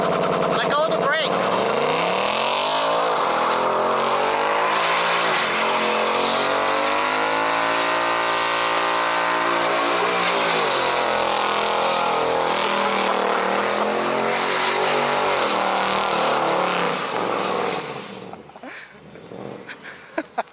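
A 2018 Ford Mustang GT accelerating hard with stability control off gives a loud, sustained engine roar that climbs and dips in pitch for about seventeen seconds before fading away.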